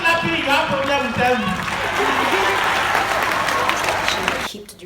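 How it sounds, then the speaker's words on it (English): Audience at a Nigerian Law School session claps throughout, a continuous crowd patter running under a voice speaking over it. "If you are not clapping, you have problem with"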